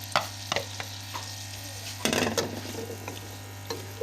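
Chopped onions tipped into five or six spoonfuls of hot ghee for a fish curry, sputtering and crackling near the mic over a steady hum, with sharp bursts as they land.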